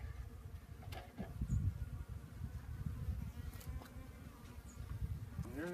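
Honey bees buzzing steadily at close range as they are released into a top bar hive near its entrance in Mount Airy, Georgia, a dense continuous hum with occasional louder passes of individual bees.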